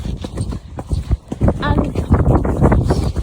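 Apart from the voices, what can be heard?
horse hooves clip-clopping while being ridden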